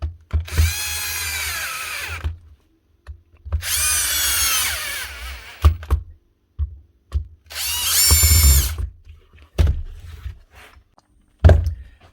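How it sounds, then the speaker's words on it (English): A Dewalt SDS hammer drill runs in three loud bursts of a few seconds each, separated by pauses with short knocks and clunks. "SDS drill. I see these all the time now."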